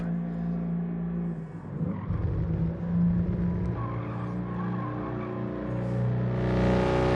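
A race car engine in the video game GT Sport roars steadily from a small exhaust pipe with a high, straining rev that shifts pitch, loud and continuous with no voices.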